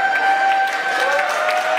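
A crowd applauds steadily at a parenting school certificate ceremony, a dense wash of clapping with a faint tone lingering underneath.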